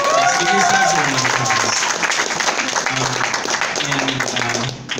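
Audience applause at the closing ceremony of a fur convention, a loud, continuous roar of clapping and crowd noise with voices and cheering mixed in, tapering slightly at the very end.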